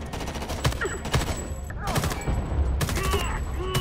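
In the first-person shooter Homefront: The Revolution, a sniper rifle fires amid a loud gunfight. Repeated sharp gunshots and bursts crack over a continuous background of battle noise.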